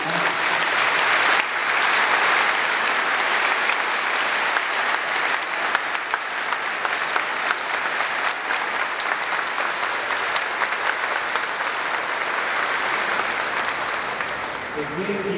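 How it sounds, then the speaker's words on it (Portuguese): A congregation at a church sermon gives a long, loud round of applause welcoming a group of missionaries, dense sustained clapping filling the space, with a voice faintly heard over it. "eu gostaria que vocês acolhessem com uma salva de palmas esse grupo de missionários"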